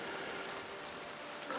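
Heavy rain pours through woodland at Loch Venachar in Scotland, a dense, even hiss that holds steady throughout with nothing else over it.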